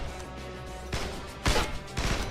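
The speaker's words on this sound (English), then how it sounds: "That's a grenade launcher." Grenade launcher blasts in a video game: several heavy, crashing booms in quick succession over a steady background hum, the loudest hit in the middle.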